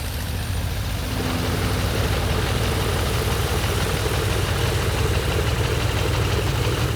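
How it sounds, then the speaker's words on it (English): A loud, rough radial aircraft engine idles steadily nearby, a throbbing low rumble that stays constant from start to finish. "every different round engine sounds different, whether it's a Continental 220."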